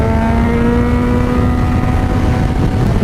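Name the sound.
Yamaha FZ6R motorcycle clutchless shifting through gears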